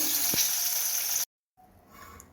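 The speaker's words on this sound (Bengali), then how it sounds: "আমি ডিমগুলো ভেজে নেব একটু লাল লাল করে ভেজে নেব" Eggs coated in turmeric, salt and chilli powder fry in hot mustard oil in a wok, giving a loud steady sizzle that cuts out abruptly, then a quieter crackle returns.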